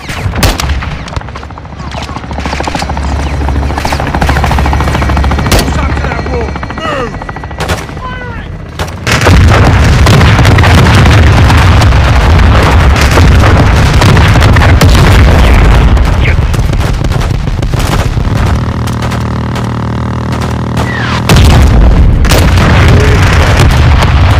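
Airstrike explosions and gunfire in the Modern Warfare 2 video game: heavy booms and sustained rapid shooting, loud and close, building to a dense continuous barrage of blasts and fire.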